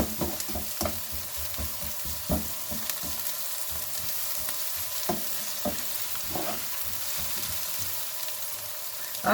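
Garlic frying in a pan for chicken tinola, a steady crackling sizzle broken by sharp spatters and scraping stirs of a utensil, close and continuous with no talking.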